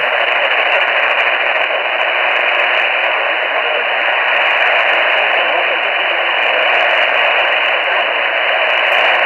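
Band-limited country music radio station audio with a steady hiss of static, carrying a continuous broadcast that sounds thin and tinny, with a song faintly through the noise.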